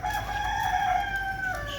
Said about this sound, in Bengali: এই মোরকের ডাকটা আপনাদেরকে শোনার জন্য